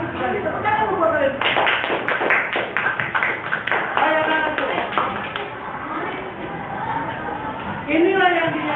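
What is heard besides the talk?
students clapping hands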